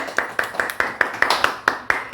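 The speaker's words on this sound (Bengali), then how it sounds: "হাততালি দাও সবাই" A small group claps in celebration at a surprise six-month anniversary party, producing about ten rhythmic, closely spaced claps, loud and near, with faint voices underneath.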